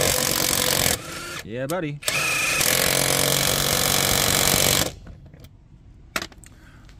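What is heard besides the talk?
budget Amazon impact wrench running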